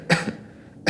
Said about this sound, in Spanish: haciendo pequeñas toses sin que se lastimen